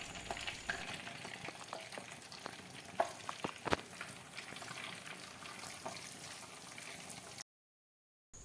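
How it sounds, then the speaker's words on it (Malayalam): Ribbon pakkavada dough, a Kerala-style snack, sizzling in hot oil as it is pressed in, a steady crackling fry with a few louder pops and stirring clinks, ending abruptly in silence. "എണ്ണ ചൂടായതിന് ശേഷം നിറച്ചു വെച്ചിരിക്കുന്ന മാവ് അതിലേക്ക് കറക്കി കൊടുക്കാം"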